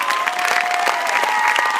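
A private concert audience in Montpellier claps loudly and densely, a brief burst of applause filling the room with no talk over it.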